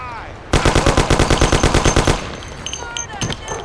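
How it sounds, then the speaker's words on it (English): A burst of rapid gunfire in Mafia: City of Lost Heaven rattles off about fifteen loud, evenly spaced shots for roughly a second and a half. A few scattered, quieter shots follow. "Boy, there's shooting here."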